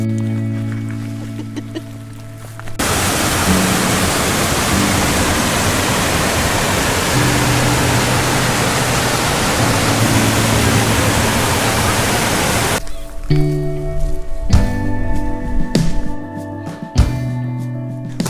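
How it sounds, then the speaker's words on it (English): A waterfall in Scotland roars with a loud, steady, broadband rush that fills most of the stretch, with quieter moments and some voices just before and after it. "we noticed this waterfall place here, and it's something that we wanted to have a look at"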